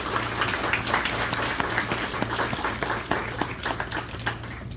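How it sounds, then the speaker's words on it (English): An audience at a pinning ceremony claps steadily for several seconds, a dense continuous patter of many hands, with a low rhythmic hum pulsing underneath. "let's take a second and give ourselves a round of applause for getting to this point"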